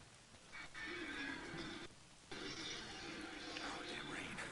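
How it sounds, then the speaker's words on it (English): Steady rain in the video game Days Gone, a broad hiss that drops briefly and returns, with a voice talking over it. "Oh, damn rain."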